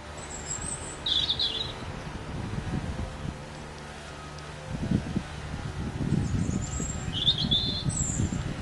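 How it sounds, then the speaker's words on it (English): Short bird calls ring out outdoors in scattered bursts, some near and some farther off, over rustling wind and low background rumble. "The birds are calling out."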